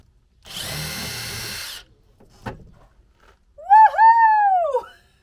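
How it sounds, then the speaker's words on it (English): Power drill backing a screw out of a truck camper panel: a short whirring burst, a faint click, then a louder rising and falling whine as the screw turns out, near and alone. "Let's get another screw out."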